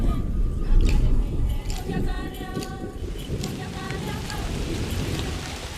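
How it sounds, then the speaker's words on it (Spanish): Heavy rain pours down over dry savanna in the remote Shaba region of Africa, a dense, steady hiss with a low rumble, while a narrator speaks over it. "Grandes cúmulos se forman sobre la sabana reseca y con 3 años de retraso descargan por fin la lluvia"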